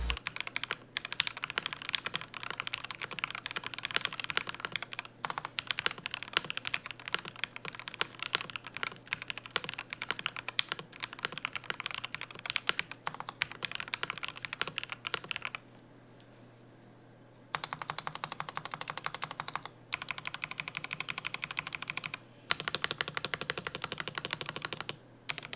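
Typing on a stock EK68 mechanical keyboard with muted switches and unrefined stabilizers, a steady close stream of rapid keystrokes with a brief pause partway through, then continued bursts of clacking with no voices.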